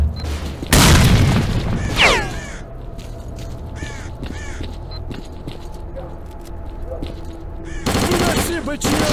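Grenade blast and gunfire in the shooter game S.T.A.L.K.E.R. Clear Sky, with a heavy boom near the start followed by crackling bursts, rapid shots and louder firing near the end, under game voices shouting.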